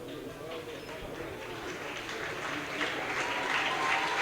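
Spectators at a Senegal vs Zambia under-20 football match in Thiès applaud during substitutions, a distant, diffuse clapping that swells slightly toward the end beneath the ambient stadium noise.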